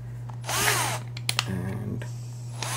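Power drill being fitted with a car polishing pad, giving short bursts of whirring motor noise close up, first a rising and falling whine and then brief spins and clicks over a steady low hum.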